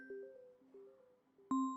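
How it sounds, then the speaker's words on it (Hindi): A phone ringing indoors in a quiet room, soft chiming tones rising and falling, then a louder, sharper ring tone cutting in near the end. "खालिद का फोन है।"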